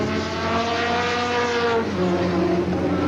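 A Ford Probe GTP race car sits in the pits during an IMSA Camel GTP race at Laguna Seca in 1986. Its engine holds a loud, steady drone while other race engines whine past.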